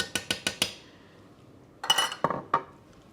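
A metal utensil knocks and clinks against a pot while vinegar pepper sauce is stirred into cooked collard greens, four quick taps, a pause, then a few more clattering strikes, close and clear.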